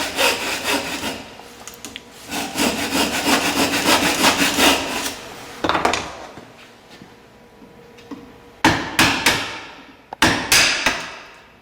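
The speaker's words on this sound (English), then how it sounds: "I'll just add one more cut down the centre of the timber to be removed, just making it a little bit easier to notch out." A hand saw cuts down the centre of timber for a tee halving joint. Rhythmic wood-rasping strokes run for about six seconds, then a pause, then a few short, sharp strokes close by.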